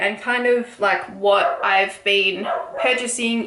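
A dog barks a few times in the background of a home knitting podcast, partly masked by a person talking close to the microphone.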